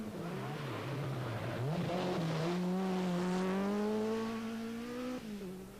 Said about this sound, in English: The new leader, Juha Kankkunen, in the Peugeot, the only man apparently without any problems